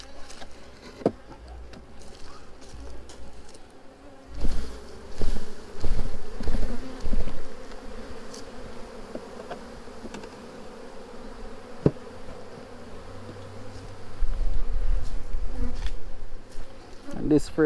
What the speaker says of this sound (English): So I'm gonna be shaking this frame with those young bees into this box.